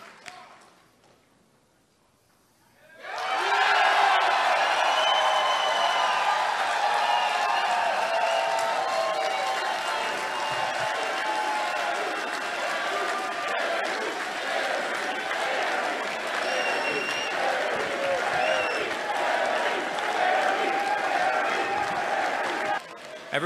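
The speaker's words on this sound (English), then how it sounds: "please stand and give a round of applause for the nominee for President of the United States, Governor Gary Johnson." A Libertarian Party convention crowd bursts into sustained applause and cheering for its presidential nominee after a brief quiet start, with loud, dense clapping, shouts and voices filling the hall for about twenty seconds.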